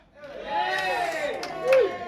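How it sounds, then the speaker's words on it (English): A comedy club audience at Brighton Harbour Club lets out a short, lively cheer of whoops and raised voices that swells toward the end. "Give me a cheer if you're married and happily married tonight."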